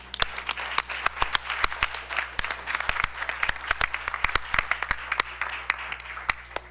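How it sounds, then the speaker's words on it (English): Audience applause at a school board business meeting for award recipients, a steady wash of clapping with sharp individual claps standing out throughout, moderately loud and sustained with no talking over it. "give these very deserving recipients one more round of applause"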